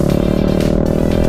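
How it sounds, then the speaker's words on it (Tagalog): Two-cylinder motorcycle engine idling up close, a loud, steady pulsing throb with an even, rapid firing rhythm and no talk over it. "2-cylinder yung motor pero tunog 4-cylinder o kaya 3-cylinder"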